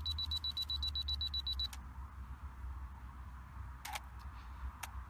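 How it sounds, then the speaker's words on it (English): A camera's two-second self-timer gives a rapid, steady run of high beeps that stops abruptly, followed by a couple of sharp shutter clicks, heard close over a low background hum. "I've got a 2 second timer. So after I let go of the trigger, the camera is as still as possible."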